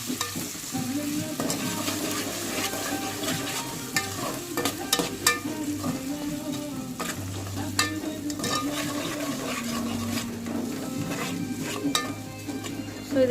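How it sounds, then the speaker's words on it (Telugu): Ginger garlic paste fries and is stirred in a pan, a continuous sizzle with frequent scraping and clinking of a spoon against the metal, close and steady throughout. "సో ఇది పచ్చి వాసన పోయేంత వరకు దీన్ని వేపుకుందాము"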